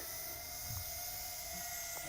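A JJRC H16 quadcopter drone hovers about 10 to 15 feet up during a night flight, giving a faint, steady whine with a constant tone that holds unchanged throughout.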